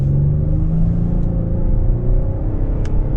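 2025 Kia Telluride SX Prestige with a 3.8 liter V6 pulling away from a stop, a close, loud engine drone with a rising tone and steady road rumble heard from inside the cabin, no talking.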